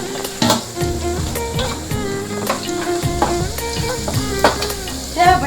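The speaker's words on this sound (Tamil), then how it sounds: "எண்ணெயில் பொரிய போகுது." Onion frying in hot oil with pepper, cumin and ginger as crab curry is prepared: a close, continuous sizzle broken by clattering stirs and scrapes of a spoon against the pan, with no talk.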